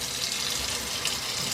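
Steady rush of water running from a faucet after frozen pipes thawed, a continuous close hiss with no breaks.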